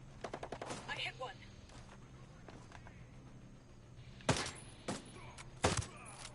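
Distant gunfire from the tactical shooter Ghost Recon Breakpoint: a quick cluster of shots at first, then a quiet stretch before several louder isolated cracks, set against a low steady background hum.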